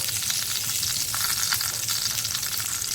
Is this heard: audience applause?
no